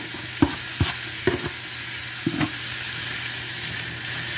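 Peppers and other vegetables sautéing in a pan for pepper steak give a low steady sizzle, broken by a few sharp clanks and scrapes of stirring near the start, with no talk.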